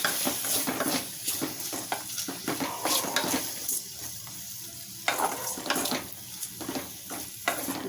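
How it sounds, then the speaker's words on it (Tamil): Chopped tomatoes sautéing in a pan for a mushroom kulambu, with a steady sizzle and repeated stirring scrapes and clinks throughout, close and fairly loud, no talking. "தக்காளியும் நல்லா வதக்கிக்கலாம்."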